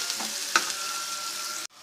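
Onions frying in a pan for samosa filling, a steady close hiss of sizzling with a brief stir clatter partway through, cutting off abruptly near the end.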